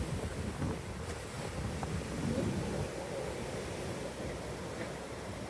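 Ocean waves wash against a beach seawall at high tide in Khao Lak, Thailand, a steady broadband roar mixed with wind buffeting the microphone, with no talk.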